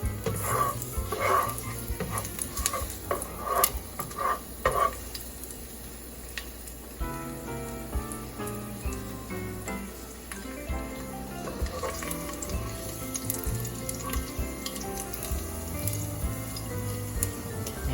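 Garlic sautes in a pan with red pepper flakes, giving a steady sizzle broken by soft clinks and stirring scrapes, with a faint musical background and no speech.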